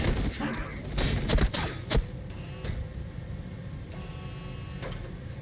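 Space Marine bolter fire in the Warhammer 40K Battlesector strategy game: irregular bursts of rapid, crackling shots at moderate distance, dense at first and then thinning into scattered single reports over a steady battlefield hum.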